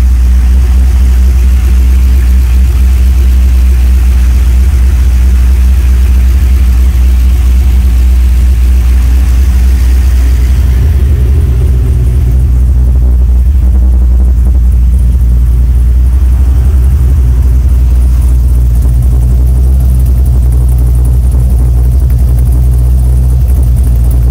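A 1965 car engine idling with a full exhaust and relocated air cleaner, a deep, droning exhaust rumble, steady and loud throughout, the tone shifting slightly partway through.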